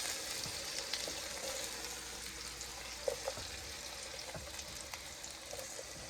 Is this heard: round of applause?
no